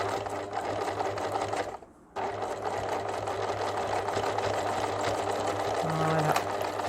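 A domestic sewing machine runs steadily, stitching a finishing seam on fabric, a close continuous mechanical whir with a brief pause partway through.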